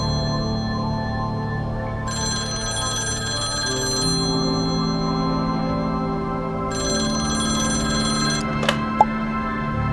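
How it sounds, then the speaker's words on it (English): A telephone rings inside the Confidential Killings video game in two long bursts of a bright, trilling bell, loud and close over a steady hum of background music. "I really like the way the phone rings."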